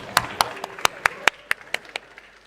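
A small audience claps for a presenter at a founders and investors matching event in Buenos Aires, about a dozen sharp, separate claps spaced irregularly and fading out within a few seconds.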